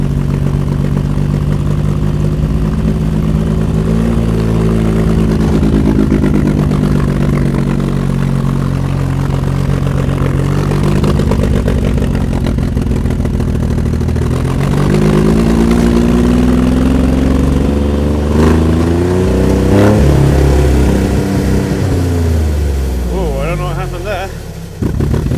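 An old 1968-era Jeep CJ5 engine idles and revs on choke in extreme cold around -31C, a loud steady drone rising and falling in pitch throughout with engine harmonics, speech present.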